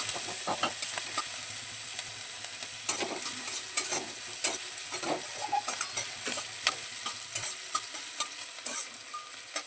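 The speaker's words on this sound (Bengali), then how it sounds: "কুচি করে রাখা ক্যাপসিকামটা দিয়ে দিচ্ছি ক্যাপসিকামটা তেলে একটু ভেজে নেব" Chopped capsicum sizzles steadily in hot oil, with close spoon scrapes and stirring clatters breaking through the constant frying hiss.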